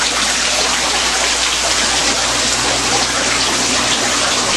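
Steady, loud rushing and splashing of pond water running through a filtration system at full capacity, a constant broadband gush with no pauses or voices.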